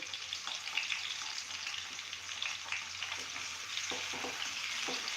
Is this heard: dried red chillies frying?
yes